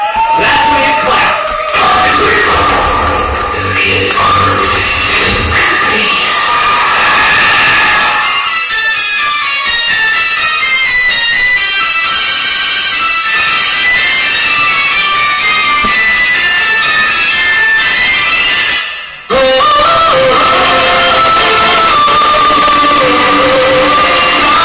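A large crowd cheers, whoops and claps loudly and continuously at a pageant, with a brief cut in the middle before the roar resumes.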